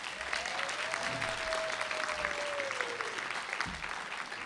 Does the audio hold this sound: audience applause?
yes